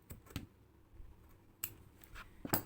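Scissors snip threads on a handwoven Wayuu bag in a few quiet, close, crisp clicks spread across the moment, with no talking.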